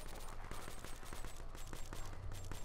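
Rapid gunfire in the competitive shooter Call of Duty Black Ops 3, a steady rattle of overlapping shots and clicks at moderate level, with faint game noise underneath.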